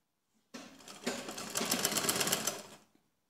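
A sewing machine stitches a heart-shaped neckline design in one steady, fairly loud run of rapid mechanical clatter that starts abruptly, speeds up slightly, then stops, with no talking.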